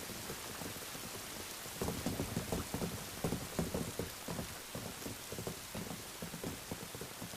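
Steady rain pours down, with a dense hiss and irregular heavier patters that thicken after the first couple of seconds; no voices.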